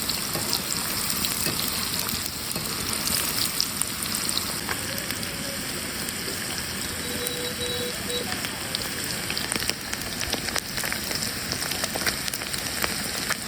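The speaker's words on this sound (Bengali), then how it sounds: "প্রায় ভাজা হয়ে গেছে, আর একটু ভাজতে হবে।" Bitter gourd pakoras deep fry in hot oil, a constant dense sizzle and crackle that stays even throughout.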